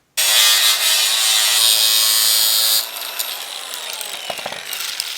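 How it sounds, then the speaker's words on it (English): A length of PVC pipe is cut with a loud, continuous, harsh power-tool whine that runs for a few seconds and then stops abruptly. A quieter clattering and handling noise follows. "So I'll just cut this last length of PVC up"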